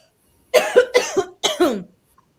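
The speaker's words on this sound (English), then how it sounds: "As I cough." A person coughs in a quiet room: three close, sharp bursts in quick succession, the middle one doubled, loud and near with silence around them.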